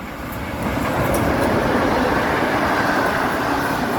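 A passenger train pulls into Szczecin Zdroje station, a broad steady rumble that swells in the first second and holds, close and fairly loud, with no talk.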